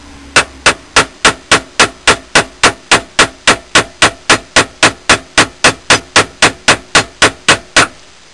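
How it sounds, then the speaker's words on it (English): A hammer bangs on a workbench while a knife is forged, about two dozen loud, sharp, evenly spaced strikes in steady rhythm, close up, with no talking. "I'm there banging away on the bench with a hammer."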